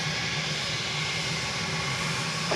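Jet aircraft at DFW Airport, a steady broadband engine roar held at constant loudness throughout, with a slight swell at the very end and no talking.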